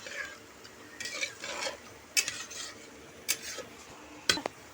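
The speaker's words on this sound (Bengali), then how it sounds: "আমি কুকারের মটরটা আমি পুরো ওর মধ্যে ঢেলে দেব" Boiled peas from a pressure cooker go into a simmering spice mix for ghugni, with a few sharp metal clinks of a spoon against the pot, soft stirring scrapes and a faint sizzle in between, close and moderately quiet, with no talking.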